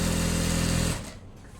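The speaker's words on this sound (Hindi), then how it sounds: "यहाँ आसन के एरिया तक सिलाई लगाएंगे" Sewing machine stitching trousers up to the seat area, a close, steady rapid whirring hum for about a second before stopping abruptly, leaving a quieter fading tail.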